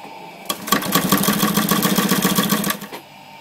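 A sewing machine runs a steady, rapid stitching burst for about two and a half seconds, sewing V69 thread with a 110 needle on a seven-layer mainsail, loud and close with no talk.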